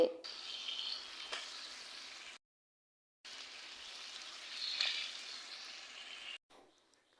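Bottle gourd cooks in a pan over a clay stove, a soft, hissing sizzle that runs steadily with a short gap of silence in the middle, faint and close.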